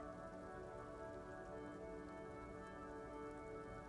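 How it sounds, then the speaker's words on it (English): Steady rain falls as an in-game sound effect in Disco Elysium, an even, continuous patter that holds at a constant level with no voices. "That's a good rain noise."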